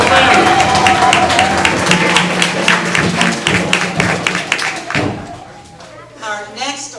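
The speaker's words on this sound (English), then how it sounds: "Let's also give Papa Kalesi a round of applause." Audience applause breaks out at a Kwanzaa Imani Night program hosted by the DC Council of Elders. The clapping is dense and loud, then thins out near the end as a voice speaks.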